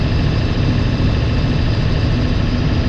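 A Ford Powerstroke 7.3L diesel truck fitted with an S&B cold air intake idles nearby, a loud, steady low rumble with constant mechanical clatter and no talking.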